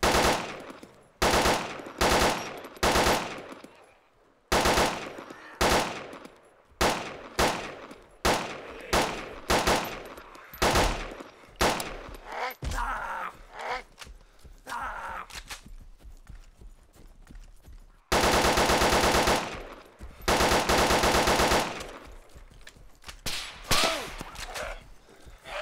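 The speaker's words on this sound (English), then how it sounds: "here we will see a perfect example of my professional shooting" Gunfire in the video game DayZ: loud, close shots come one at a time and in quick bursts, with a long sustained volley near the end.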